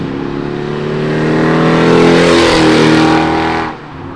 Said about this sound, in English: I'm like doing a damn burnout